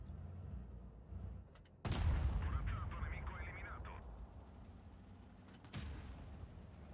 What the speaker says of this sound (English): This is a 400 alpha gun,